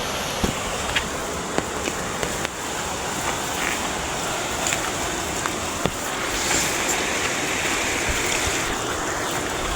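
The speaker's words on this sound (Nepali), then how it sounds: "यो चाहिँ खोला है यो खोला" A small village stream runs steadily with a continuous broadband rush of flowing water, close and even throughout, with a few faint clicks and no talking.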